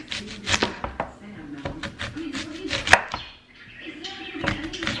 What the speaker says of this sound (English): So I have to fill that up with onions. I hate cutting onions.